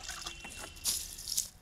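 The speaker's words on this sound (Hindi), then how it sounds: "कुछ पानी डाल दिए," Water is poured into an outdoor compost pit layered with crop stubble and soil, making close, irregular splashing and trickling with a brighter gush near the end.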